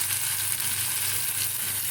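Green chillies and pieces of tilapia sizzle in hot oil with panch phoron in a home kitchen, a steady, close, crackling fry with no pauses and no talking.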